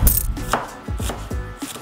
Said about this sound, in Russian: Теперь берем красный лук и нарезаем его перьями.